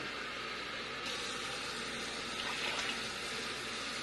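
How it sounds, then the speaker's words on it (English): Four cups of water pour steadily into a pot, a continuous hissing splash that slightly changes tone as it fills. "we're going to put 4 cups of water."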